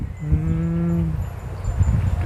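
A cow at a Thai cattle farm gives a single loud, close moo with a low, steady drawn-out tone, followed by barn background noise.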